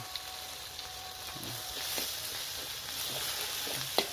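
Spotted dove meat being stirred with Aceh spices in a hot pan outdoors, a steady moderate sizzle with occasional soft scraping clicks from the stirring, no voices.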